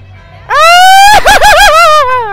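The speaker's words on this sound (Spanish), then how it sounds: "Échate un grito mexicano." A loud, high, drawn-out Mexican grito shout at a September 15 Independence Day fiesta in Monclova, wavering and trilling in the middle before trailing off, delivered alone by one voice.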